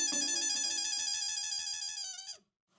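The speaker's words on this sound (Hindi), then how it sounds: "रिंग बज रही पर फोन ही नहीं उठा रहा है।" An electronic ringtone warbles steadily for about two seconds, then cuts off into silence.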